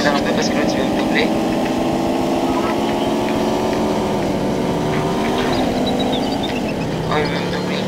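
A motorcycle engine in a racing video game keeps up a continuous buzzing drone whose pitch climbs and dips as the rider speeds up and shifts, with a person talking over it.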